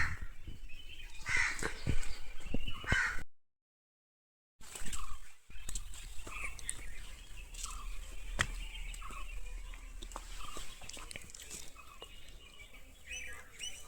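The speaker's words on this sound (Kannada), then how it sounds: "ಆ ಪಕ್ಷಿ ಸೌಂಡ್ಗಳಾಗಿರ್ಬೋದು, ಬೆಳಗ್ಗೆ ಟೈಮು ಅದು ಕೇಳೋದಕ್ಕೆ ಒಂದು ಚೆಂದ ಅಂತ ಅನಿಸುತ್ತೆ" Crows cawing and other birds calling in the morning around a homestay at Kotagiri in the Nilgiris, with repeated harsh caws and scattered chirps over a quiet background, broken by a brief silent gap, fairly faint and with no talk.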